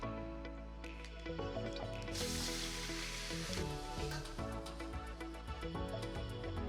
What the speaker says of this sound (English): I'm gonna melt the butter